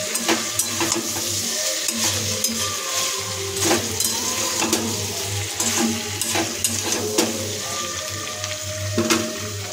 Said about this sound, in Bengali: এবার খুন্তিতে সবজিগুলোকে আবার ভালো করে নাড়িয়ে নেব।